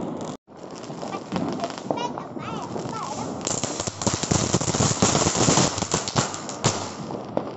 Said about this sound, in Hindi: ये कौन सा पटाखा है